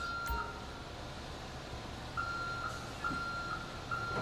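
Reversing beeps from a tow truck in Grand Theft Auto 5, a steady series of short electronic tones repeating at an even pace, clear and fairly close with a low engine rumble underneath.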